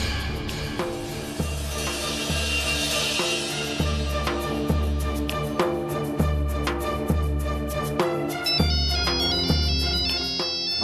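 A mobile phone ringtone plays a bright, looping melody over a steady bass beat, loud and close, running continuously with no talking over it.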